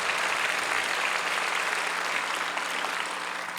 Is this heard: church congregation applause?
yes